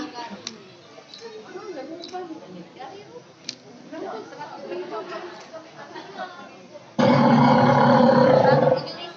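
A tiger's roar bursts in loud and sustained near the end, after a stretch of talking with scattered faint clicks.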